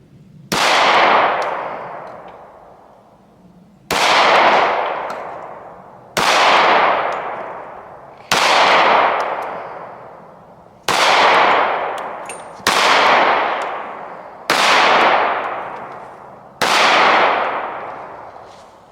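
Eight loud single pistol shots from a Dan Wesson ECP .45 fired at an outdoor range about 11 to 12 yards from the target, each sharp crack ringing off in a decaying tail, spaced roughly two seconds apart.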